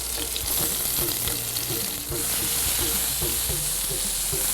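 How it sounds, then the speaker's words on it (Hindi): Garlic and tomato halves frying in oil in a pan, a steady close hiss and sizzle with occasional stirring clatter throughout. "यहाँ पे गार्लिक जो ब्राउन हो रहा है"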